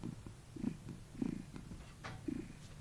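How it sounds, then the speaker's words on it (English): A domestic cat purrs close to the microphone in soft, rhythmic rumbling pulses, several slow breaths of purring in a row, quiet and intimate with no talking. "you might hear my cat purring. He's by the microphone."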